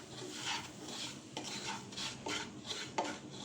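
Semolina frying in ghee with two cracked small cardamom pods, stirred in a pan: a steady soft sizzle and grainy scraping, with a few sharper spoon-on-pan scrapes recurring about once a second, close and alone without talk.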